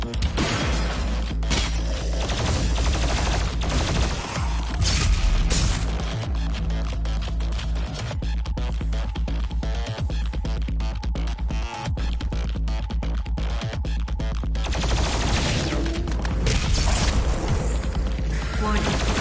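BFG 10,000 superweapon firing in DOOM Eternal, a sustained roar of heavy booms, crashes and mechanical rumbling layered over loud game music, with a speech-like voice mixed in.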